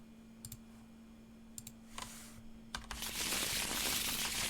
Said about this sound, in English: We'll give both of them a quick shuffle.